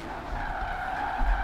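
Car tires squealing and skidding through a drift on a touge run on Fortune Island in Forza Horizon 4, a loud, sustained screech over engine rumble, with no talk.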